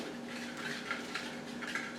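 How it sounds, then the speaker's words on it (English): A whisk rhythmically clinking against a bowl while mixing salt and baking powder, with light, quick repeated scraping taps close by. "So we're going to whisk that up good so the baking powder gets all mixed in."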